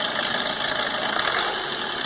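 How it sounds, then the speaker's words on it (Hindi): A used car's engine runs under throttle with a loud, steady, broadband roar that holds even throughout, close up, with no talking. "एक्सीलेटर दे रहे हैं"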